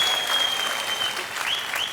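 A studio audience on a comedy TV show applauds steadily, dense clapping with a faint whistle running through it.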